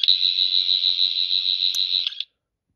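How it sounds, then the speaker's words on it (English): A 14th Doctor Sonic Screwdriver toy, the standard retail version, gives a steady, high-pitched electronic whine that holds for about two seconds and then cuts off, followed by silence. "this Sonic doesn't just have that sound effect"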